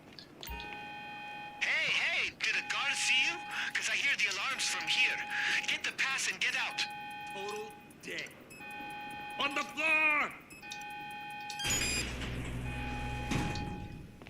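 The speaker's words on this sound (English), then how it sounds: "Hey, did a guard see you? Because I hear the alarms from here." Alarms blare repeatedly in a GTA 5 Online salvage yard robbery mission, steady electronic tones cycling on and off behind near-constant talking.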